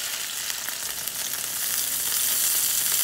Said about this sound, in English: take this one and put it in the pan so it can get seared